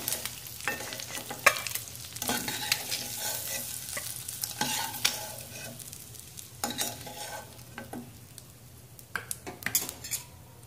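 Eggs fry in oil in a pan, a soft continuous sizzle broken by frequent clinks and scrapes of a utensil against the pan, close and fairly quiet with no talk.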